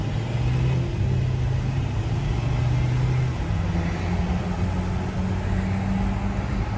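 A Chevrolet Corvette pulls away with a steady, loud mid-pitched engine rumble and a broad rush of road and wind noise. It holds at a fairly even level from start to finish and never builds into a sharp rev.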